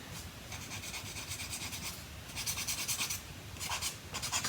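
Plastic tabs on a 1/35 Airfix Cromwell Mk.IV model kit part are scraped and rasped in short repeated strokes, a close, dry scratching with bursts of brighter rubbing.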